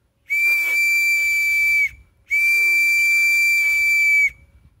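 Two long, shrill, steady blasts come from an improvised whistle carved from bamboo. They are loud and close, with a short gap between them.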